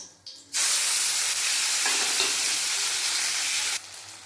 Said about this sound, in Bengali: তেল গরম হয়ে গেছে তেলের মধ্যে দেবো গোটা জিরে একটা তেজপাতা আর ওই তেলের মধ্যে দিয়ে দেবো বেটে রাখা মশলা